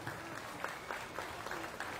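An audience at a county fair swine show claps for the kids exhibiting pigs, a brief, moderately faint patter of applause with a few individual claps standing out in a large, echoing space.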